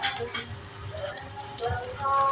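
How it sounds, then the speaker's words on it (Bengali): Fish frying in a pan in a home kitchen: a crackling sizzle with scattered pops and spits, close by, fairly steady and swelling louder at the end. "আগে মা মাছগুলো ভেজে নিচ্ছে"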